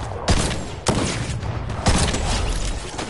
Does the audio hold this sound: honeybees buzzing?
no